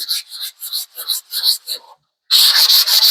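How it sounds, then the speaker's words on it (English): Hand scratching and rubbing on a 1966 Ford Mustang's body comes as a series of loud, close, rhythmic abrasive strokes, then a brief pause and a faster continuous run of scraping. "I will be scratching like this all day long"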